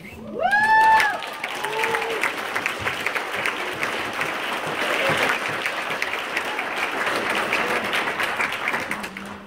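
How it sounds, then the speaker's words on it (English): Sustained audience applause at a Star Wars Reads Day event, many hands clapping steadily and fairly loudly throughout, with a few brief whistles and cheers near the start. "Let's have another round, nice warm round of applause."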